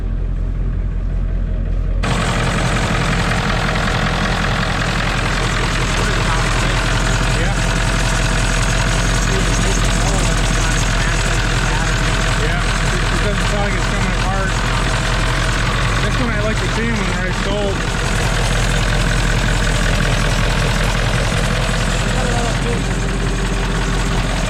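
An old OBS Ford truck engine idles after a cold start on weak batteries, a loud, steady, close rumble that runs without a break after it catches, with someone talking over it.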